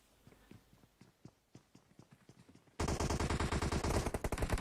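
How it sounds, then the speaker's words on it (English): Gunfire during a CS:GO tournament match: a run of sharp, evenly spaced shots gives way halfway through to a loud, dense, sustained burst of rapid fire. "they must be shooting pretty much round him at the moment"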